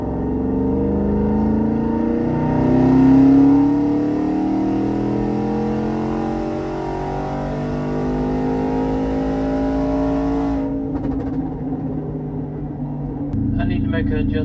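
Twin-turbo Coyote V8 in a Ford F150 revs through a sustained wide-open-throttle pull, its pitch climbing steadily for about ten seconds before cutting back, with a second rise at the end; loud and close throughout.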